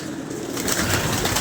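Pigeons coo amid a dense, noisy wash of sound where the flock is being shooed and made to climb onto a perch, the calls blending into a constant loud background without clear individual coos.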